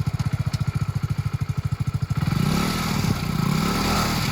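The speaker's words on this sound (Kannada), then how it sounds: "ಇರು ಗಾಡಿ ಪಾಸ್ ಆಗಲಿರು" A motorcycle's engine thuds in a steady idling rhythm up close, then swells into a loud, rising roar as the bike moves off along the road, with the engine note holding strong to the end.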